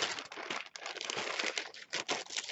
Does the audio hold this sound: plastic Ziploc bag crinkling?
yes